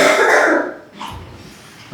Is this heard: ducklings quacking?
no